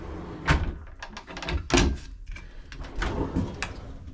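A drawer fridge in a Hanse 360 caravan is pulled open and pushed shut, giving several close sliding thuds and knocks spread over a few seconds.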